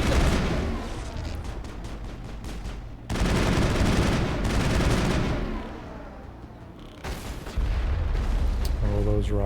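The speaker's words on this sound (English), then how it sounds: "Oh, those rockets." Rocket fire and explosions in the Mass Effect video game, a loud sustained barrage of blasts and gunfire in several heavy bursts, with faint voices mixed in.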